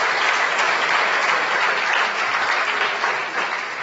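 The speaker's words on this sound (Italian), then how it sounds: "Fategli un applauso" Audience applause at a Confindustria young entrepreneurs' conference, a steady dense roar of many hands clapping that holds at an even level throughout.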